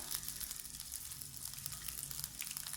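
Poppy seeds (khus khus) frying in hot oil for a Chettinad egg curry give a steady, soft broadband sizzle with faint crackles, continuous and close, with no talking.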